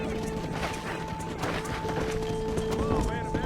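A cattle herd stampedes in the Western video game Red Dead Redemption, a dense rumbling clatter of hooves with scattered thuds and knocks under a steady game music drone.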